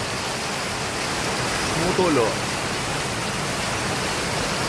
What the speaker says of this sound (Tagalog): Ang aming kisame, tumutulo.